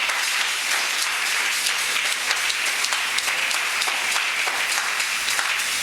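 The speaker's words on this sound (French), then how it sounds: "acclame très fort" A crowd applauds loudly and continuously, dense rapid clapping with no pause, filling the space throughout.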